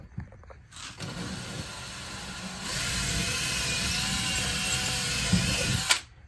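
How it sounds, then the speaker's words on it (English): An electric drill whirs into a wall while installing an EV charger, starting in short bursts then running steadily at a higher pitch before stopping abruptly. "I'm going to take my drill, and I'm going to drill a hole."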